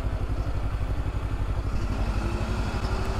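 A motor scooter engine putters steadily on a Munich street, a continuous low throbbing drone with rapid regular pulses, fairly close and loud, with traffic noise around it.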